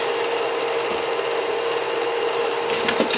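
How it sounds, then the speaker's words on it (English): A hand-cranked rotary egg whisk turns in a bowl, giving a steady whirring, rubbing drone that runs unbroken and close, then grows a little busier near the end, with no voices. "I think it's an egg whisk is what this is"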